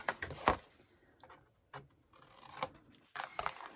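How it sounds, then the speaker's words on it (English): Scissors cutting away a flap on a button craft project, close and fairly quiet, with several irregular crisp snips and rustling between them. "we are going to cut this flap away"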